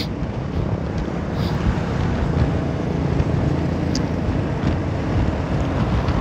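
Wind roars steadily across the mic of a rider on a Honda Forza 350 scooter on a main road, a loud continuous broadband rush with no talk.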